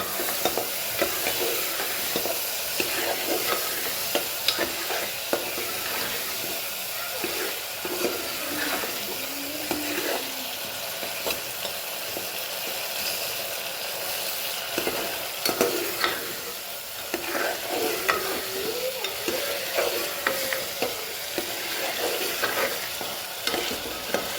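Spice masala is stirred in a hot pan, giving a continuous sizzle with scraping spoon strokes and bursts of crackle throughout.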